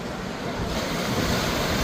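Ocean surf rolls steadily against the shore in a continuous broad wash of breaking waves, with some wind rumble on the microphone and no talking.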